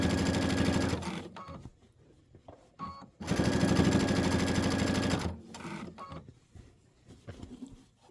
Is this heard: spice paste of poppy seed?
no